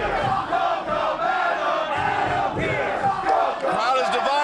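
A divided wrestling crowd at an NWA World Championship match between Colt Cabana and Adam Pearce chants and cheers in loud, rhythmic waves that fill the arena without a break.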